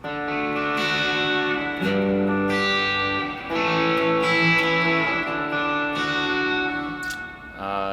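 Electric guitar chords through an M7 reverb and a dotted-eighth delay ring out with a spacious reverb tail and echoing repeats, sustained and shimmering between strums.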